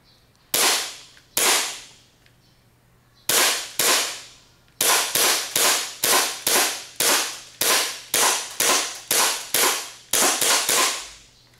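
An ICS SARSILMAZ SAR 9 airsoft pistol fires about twenty sharp, loud snapping shots during an accuracy test. A few shots are spaced apart at first, then come in a quicker steady rhythm, with quiet pauses between shots.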